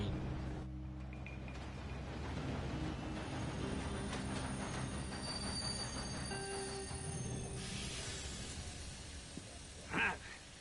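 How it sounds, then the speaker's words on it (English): A train running on rails in the Red Dead Redemption 2 video game, a steady low rumble of wheels with faint rhythmic clatter and a thin squeal, fairly quiet throughout. "Train."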